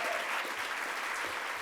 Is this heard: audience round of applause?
yes